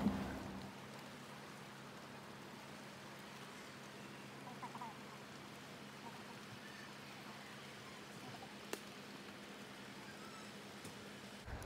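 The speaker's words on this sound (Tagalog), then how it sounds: "Umuulan siya talaga" Soft, steady patter of rain falling through foliage, constant and fairly faint, with a couple of small clicks and no clear speech.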